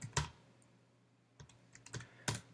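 Sparse, isolated clicks on a computer keyboard while setting up a Flutter project: one sharp keystroke, a pause, then a few scattered taps, quiet and close, with no voices.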